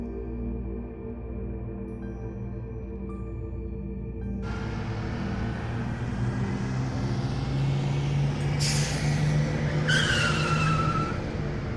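A bus to Shimla pulls up at a night stop. A steady engine rumble grows closer, and two sharp air-brake hisses follow as it comes to a halt.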